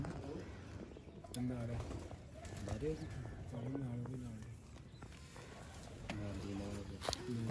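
Sialkoti pigeons coo in soft repeated bursts close by, while someone talks over them and occasional clatters sound in the background.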